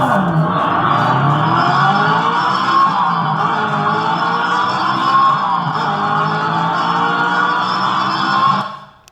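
A Komaki electric bike plays its built-in driving sound, a synthetic engine-like hum with gliding, rising and falling tones that holds steady and loud for several seconds before cutting off abruptly.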